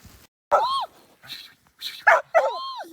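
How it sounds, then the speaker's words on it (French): A dog outdoors in Lapland gives a series of short high yips and whimpers in uneven bursts separated by brief pauses, close and loud. "Il est très très beau ce chien"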